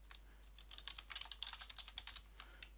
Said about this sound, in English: and start typing in details here